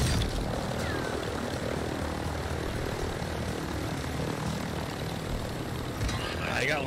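Helicopter in a video game, a steady droning rotor and engine hum that runs unbroken throughout at moderate distance.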